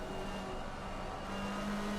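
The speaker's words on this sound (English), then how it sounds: "You love the sound of this McLaren's engine." A McLaren GT3 race car in a sim racing game at Barcelona, its engine droning with a steady raspy tone through about two seconds, moderately loud and continuous with no talk.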